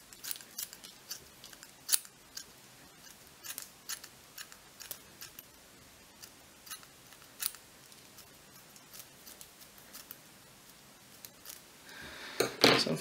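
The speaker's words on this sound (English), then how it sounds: "So I'm gonna trim it a bit here." Small scissors snip repeatedly, trimming the materials of a long pike fly at a fly-tying bench: crisp, close, quiet cuts at an irregular pace in an otherwise hushed room, ending in a brief rustle.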